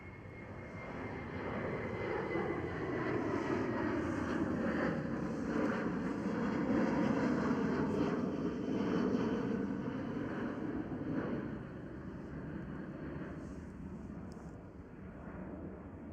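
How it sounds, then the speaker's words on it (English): A KLM Boeing 737-700 passes at Amsterdam Schiphol, its jet engines a steady broad roar with a slowly shifting whine that swells through the middle and eases toward the end, heard alone without talk. "There goes KLM 737"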